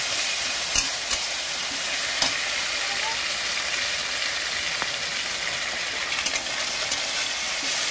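Ginger-garlic paste and ground spices fry in a pan while being stirred, cooking for a yogurt katla fish curry: a steady, dense sizzle throughout, with a few faint scraping clicks from the spoon.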